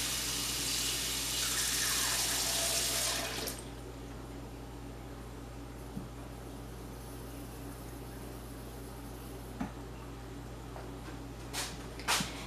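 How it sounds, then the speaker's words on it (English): Filtered water pours into a container of rye flour for a sourdough starter in a kitchen, running for about three seconds before stopping, followed by a quiet room hum and a few faint clinks. "And this is filtered water."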